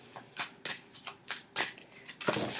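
Chakra oracle cards being shuffled by hand, a quick series of close papery riffles and flutters in an irregular rhythm, heard alone without talk.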